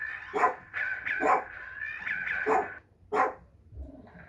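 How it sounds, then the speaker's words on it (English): A dog barks in a few sharp, separated bursts close by, with a short whimper-like sound near the end and no speech. "Sorry about the dog."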